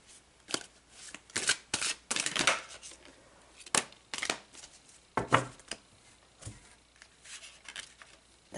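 Tarot cards are shuffled and drawn by hand in a quiet room, with several close bursts of riffling and sliding card stock separated by brief pauses.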